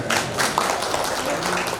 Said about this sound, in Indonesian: Tepuk tangan untuk Pak Wali